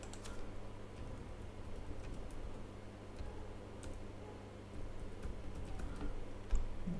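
Keystrokes on a computer keyboard while the root password is entered during a Rocky Linux install, a quiet, steady patter of soft clicks over a low hum, with one sharper tap near the end.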